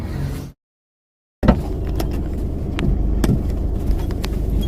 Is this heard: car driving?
yes